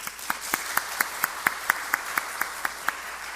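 Applause in a church hall during a young adults' faith-formation talk, with a dozen evenly spaced, distinct claps at a steady rhythm, fairly close and moderate in volume.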